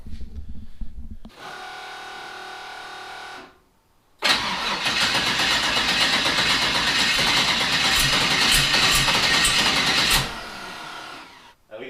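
A twin-turbo LS V8 is cranked after a compression test: a brief starter whir, a pause, then the engine catches and runs loudly for about six seconds before shutting off.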